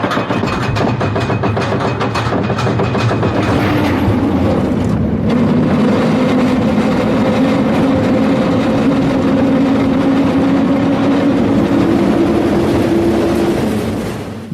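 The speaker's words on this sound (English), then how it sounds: "I'm at an amusement park in North Korea and I'm gonna go on a roller coaster now" A basic roller coaster at an amusement park in North Korea, running as a loud, continuous rumble and rattle of the cars on the track. A rising mechanical whine sits over the noise, and no one speaks.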